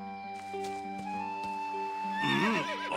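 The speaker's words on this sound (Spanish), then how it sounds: "ese caballo que está allá abajo es suyo" A horse in an animated adventure neighs in a long, shaky whinny near the end, over a soft musical score and light hoof clip-clop.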